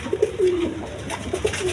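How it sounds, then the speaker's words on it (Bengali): A Giribaz high-flying pigeon coos close by in two soft bursts of rolling, throaty calls separated by a short pause, with no talking. "এখানে আরেকটা কবুতর আছে দেখেন, এটাও কুটা টানতেছে"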